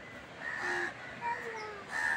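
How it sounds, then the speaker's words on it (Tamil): A crow caws several times at a resort near the sea in Mahabalipuram, harsh calls arriving in short bursts at moderate distance over quiet background hiss. "காக்கா வந்து காக்கா காக்கா வந்து காக்கா"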